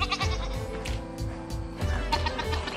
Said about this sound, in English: I see some goats